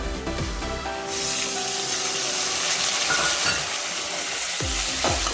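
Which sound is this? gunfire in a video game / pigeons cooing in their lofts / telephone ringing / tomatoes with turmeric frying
tomatoes with turmeric frying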